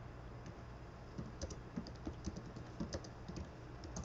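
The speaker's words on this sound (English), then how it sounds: "Oh, I have to type it out." Steady clicking of fingers typing on a computer keyboard, tapping out an email in irregular bursts of keystrokes, close and fairly quiet over a low background hum, with no talking.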